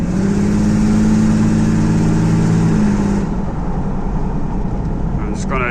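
Inside a moving car with a Mercedes OM606 diesel engine, a loud, steady engine drone carries a tonal whine that fades after a few seconds, with a brief squeak near the end and voices talking over it.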